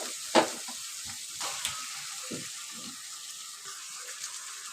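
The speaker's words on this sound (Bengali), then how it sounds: "এবার চিকেনগুলো দিয়ে দিব" Chicken pieces go one at a time into ground spice paste frying with whole bay leaves for cumin chicken, giving a soft, steady sizzle with a few small splashes and thuds, quiet and close.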